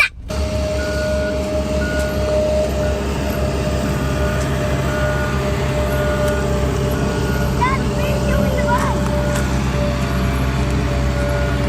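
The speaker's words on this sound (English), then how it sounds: "Asphalt in these giant trucks." Heavy asphalt trucks rumble steadily past in a continuous low roar, with a faint tonal whine running through the traffic noise and brief higher clatter near the end; no words are spoken.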